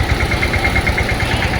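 A tractor engine with mounted sprayers runs at a steady idle close by, a loud, rhythmic low chugging with a pulsing knock and vibration, no voices.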